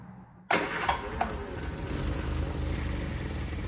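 A Triumph Spitfire 1500 engine starts after a carburetor repair, firing abruptly after a brief quiet moment and settling into a close, steady running note.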